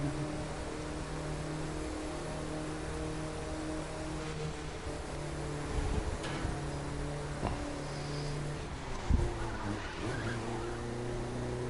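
A car from the racing game The Crew cruising along a road, a steady engine drone with sustained tones throughout, plus a couple of brief louder bumps or tire noises near the middle and end.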